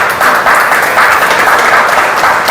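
Audience applause at a talk, a loud, continuous wash of many hands clapping together, close and sustained through the whole moment without any voices.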